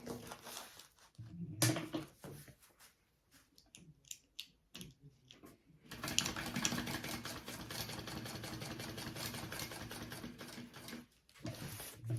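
A sewing machine top stitches a seam on a laptop bag gusset lining. A quiet, brief stop-start whir comes first, then a steady run of stitching, with pauses between.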